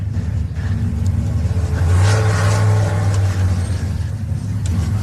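A side-by-side Class 6 off-road race vehicle at the Hillston Gap 440 roars past nearby, its engine swelling loudly mid-clip and then fading as it goes by, with no talk.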